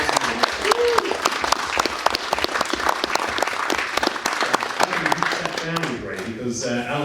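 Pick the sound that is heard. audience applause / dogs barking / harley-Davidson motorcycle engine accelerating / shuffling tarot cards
audience applause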